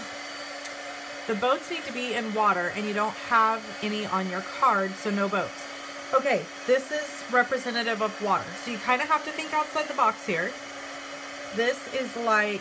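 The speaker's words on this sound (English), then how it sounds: "Now I have to heat emboss it." A heat gun melting white embossing powder hums as a steady, even whine running beneath continuous conversational talk.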